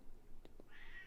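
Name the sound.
cat meowing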